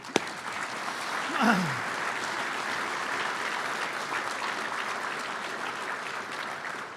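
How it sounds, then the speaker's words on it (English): Audience applause at a Marine Corps installations and logistics awards dinner honoring awardees, a steady wash of many hands clapping from a large room that holds evenly throughout, with a brief vocal sweep near the start. "another round of applause for our awardees"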